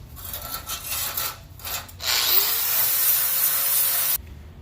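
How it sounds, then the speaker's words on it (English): A grinder cleaning up plasma-cut steel dimple die plates for roll cages in a fabrication shop. Short rough rubbing passes come first, then a sustained loud, bright grinding whine that cuts off abruptly. "we'll go ahead and clean up both sides of this with a grinder"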